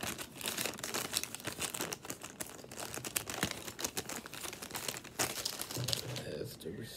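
Paper receipt from a grocery and clothing shopping trip crinkled and rustled close up, a steady run of crackling handling noise with a few sharper crumples.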